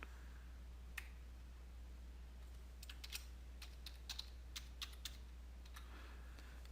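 Computer keyboard typing a local username and password to log into a PC, faint scattered key clicks in short bursts over a steady low hum, with no talk.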